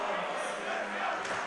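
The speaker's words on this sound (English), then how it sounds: "Crowd chanting" A basketball crowd chants at an Idaho State Bengals game in Pocatello late in a close second half, a steady dense roar of many voices that fills the arena.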